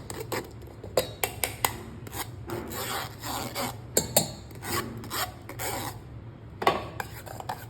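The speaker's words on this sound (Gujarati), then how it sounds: "આ રીતે આપણે ગાળી લેવાનું છે." Ripe mango pulp is pushed and scraped through a metal sieve with a spoon, making repeated rasping, rubbing strokes with occasional clinks against the bowl, steady and close, with no talking.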